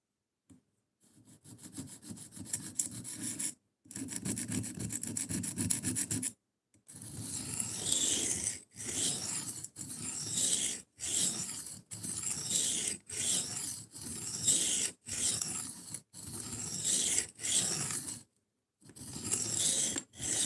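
A knife blade is worked with coarse 120-grit abrasive in about a dozen rhythmic rasping strokes, separated by brief pauses, close and fairly quiet.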